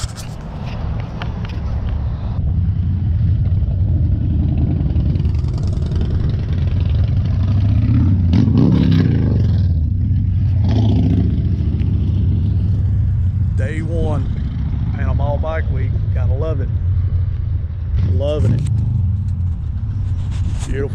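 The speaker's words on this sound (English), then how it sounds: "Let's get in the old blue Blazer and roll out." An old blue Chevrolet Blazer's engine idles and rumbles steadily, rising as it pulls away, loud and close throughout, with people talking over the motor and a few squeaky high sounds near the end.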